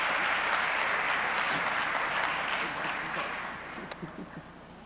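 Audience applause welcoming a speaker at a conference in Medellín, steady dense clapping throughout that gradually thins and fades toward the end.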